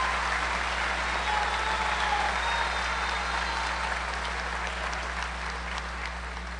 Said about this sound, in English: Would you please give a round of applause to Career-Based Intervention Class of 2018.